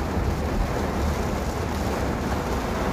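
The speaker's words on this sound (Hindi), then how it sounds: "बारिश तेज है" Heavy rain with wind produces a steady, even roar of broadband noise that stays constant throughout, without voices or distinct individual sounds.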